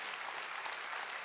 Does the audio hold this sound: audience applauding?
yes